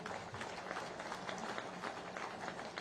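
Audience applause fills a hall during an impassioned stage speech before a crowd, with a minister for medicine and public welfare seated in front. The dense, steady clapping runs throughout, loud and continuous, with no distinct pauses.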